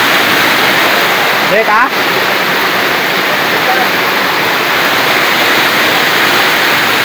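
Water pouring down a waterfall at a swimming spot in Sitio Marabo, Barangay Mambaroto, a loud, constant broadband rush filling the whole clip, with a brief spoken remark near the start.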